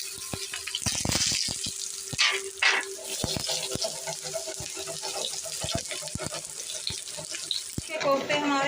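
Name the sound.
potato kofta frying in oil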